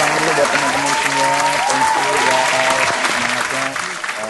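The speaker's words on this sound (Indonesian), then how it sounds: "Tepuk tangan dulu buat teman-teman semua." Applause from a crowd of employees at a company morning gathering, dense and sustained clapping throughout with musical tones beneath it, tapering slightly at the end.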